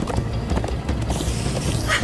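Hooves of horses galloping in Minecraft Story Mode patter in a quick, steady rhythm close up, with a whooshing rush rising near the end.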